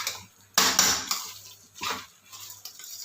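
Mutton pieces being sautéed with masala in a pan for pepper chukka, heard as a few close clattering scrapes and knocks of a ladle on metal, with brief sizzling between the strokes.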